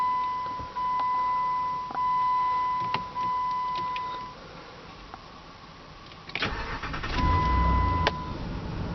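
A 2006 Jeep Commander with 98,508 miles is started up, with a chime tone first, a brief cranking burst and the engine catching into a steady idle, close by with no talking.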